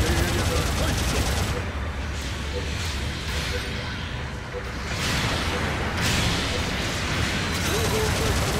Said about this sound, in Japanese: 後方部隊からの砲撃が始まった。